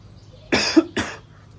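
Two sharp coughs in quick succession, close and fairly loud, against a quiet background.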